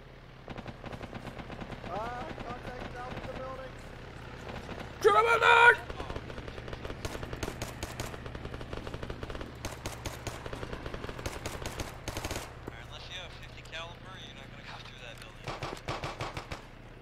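Rapid bursts of automatic gunfire and single shots in a military shooter video game, crackling near and far in uneven volleys with one loud blast partway through, while players talk over the action.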